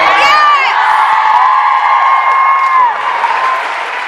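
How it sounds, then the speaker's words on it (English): Convention crowd at a fan panel erupting in loud cheering, whoops and applause, a dense sustained roar that fades slightly toward the end. "That was a rousing cheer."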